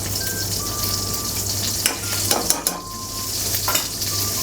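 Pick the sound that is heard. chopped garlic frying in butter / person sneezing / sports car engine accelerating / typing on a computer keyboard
chopped garlic frying in butter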